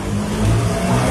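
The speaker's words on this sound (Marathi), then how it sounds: "तरी टू व्हीलर येत आहे" A two-wheeler with water in its engine passes through a flooded railway underpass, its motor droning and rising slightly under steady low rumble.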